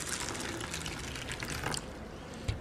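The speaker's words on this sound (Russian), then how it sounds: "Мы это просто заливаем водичкой." Water poured over mung beans and buckwheat set out for sprouting, a steady close splashing wash of liquid running for a couple of seconds with a small knock near the end.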